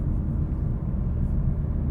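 A Renault Megane RS 300 turbo engine pulls hard while driving, a steady, loud, low rumble with road noise that holds constant throughout and no talking.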